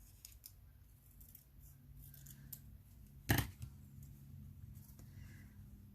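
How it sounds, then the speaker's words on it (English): A single crisp snip of scissors through a cardboard cake mix box, quick and close, standing out against a quiet room with faint rustling and no talking. "I'll just cut off a smidge on the top here."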